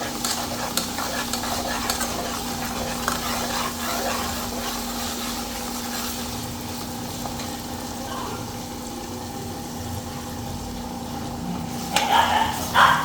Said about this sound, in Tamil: அதுக்கு கிண்டி விட்டுக்கிட்டோம்னா கொஞ்சம் நல்லாயிருக்கும்.